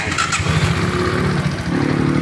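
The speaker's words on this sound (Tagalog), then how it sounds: "pinay-start na ni Sir" A 400cc Rusi motorcycle engine turns over and catches, settling into a steady low muffler rumble close by.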